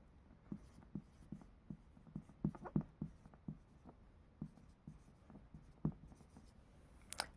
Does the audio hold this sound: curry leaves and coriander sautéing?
no